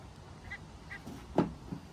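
A single short duck quack stands out among faint chirps and a soft outdoor background in remote northwestern Finland, fairly close but brief.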